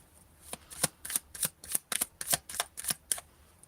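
A deck of tarot cards is shuffled close by, giving about a dozen quick riffling bursts in a fast, even rhythm against a quiet background.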